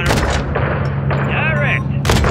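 An AC-130-style gunship pours rounds onto a boneyard in a Call of Duty: Modern Warfare III campaign mission, with heavy booming gunfire over a constant low engine drone and a brief radio-like chatter burst in the middle.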